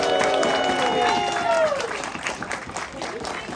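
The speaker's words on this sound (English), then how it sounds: "Can I get a huge round of applause for my fursuiters?" A convention crowd applauds and cheers for fursuiters, steady clapping with raised voices and talk mixed in throughout.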